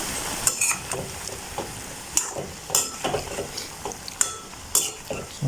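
A spoon stirring a vegetable curry seasoned with chilli powder in a pot, giving irregular scraping clinks and soft wet scrapes against the metal, fairly close, over a faint sizzle, with no talking.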